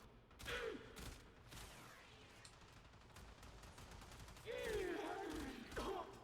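Burston Prime burst rifle firing in Warframe, several loud bursts of rapid shots with whooshing impact effects in between, a calmer gap in the middle; a voice talks faintly under the action.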